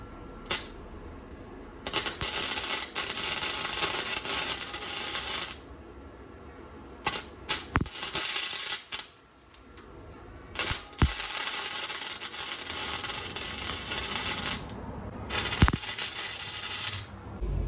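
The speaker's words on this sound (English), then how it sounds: "I need to re-weld this, and hopefully I don't run out of welding wire" Bursts of crackling, buzzing arc from a wire-feed welder repairing a broken slam mower part, several long runs broken by short pauses and quick stutters, loud and close with no talking.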